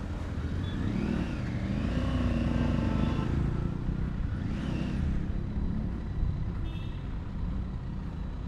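A Triumph Tiger 900 Rally Pro motorcycle on 17-inch wheels is ridden under steady wind rush, its engine note rising and falling as the rider shifts through gears.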